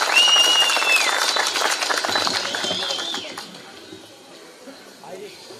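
At an outdoor political rally in Erzin, Hatay, a crowd claps and cheers while a whistle-like tone and voices sound over it, and the applause dies down after a few seconds.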